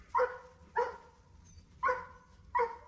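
Giant Schnauzer puppies bark in four evenly spaced yappy bursts, close and clear over a low background hum.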